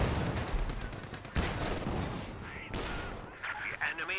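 Rapid gunfire bursts and heavy mortar blasts from the World War II strategy game Company of Heroes 2, a dense, continuous barrage of shots and explosions with brief whistling tones near the end.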